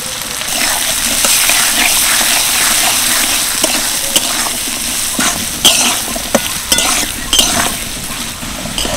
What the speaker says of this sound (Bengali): গাজর আর আলুটা হালকাভাবে ভেজে নিলাম